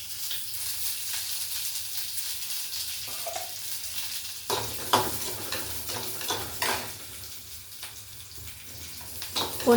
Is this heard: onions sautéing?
yes